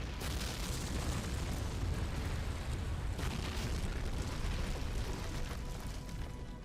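Air strike explosions in Sudden Strike 3, a dense continuous rumble of overlapping blasts and booms with a sharper burst around three seconds, steady and fairly distant.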